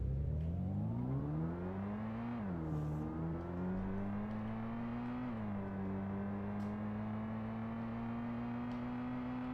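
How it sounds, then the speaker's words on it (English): Simulated car engine in a Unity3D game drones steadily, its pitch climbing through the gears with a couple of shift dips, a continuous synthetic hum with no voices. "Now when I hit play, we can actually drive the car around."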